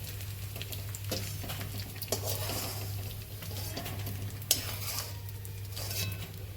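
Ingredients frying in very hot ghee for a Khambhat-style halvasan, with steady sizzling and scraping stir strokes, occasional clinks of a spoon against the pan, and a constant low hum running underneath.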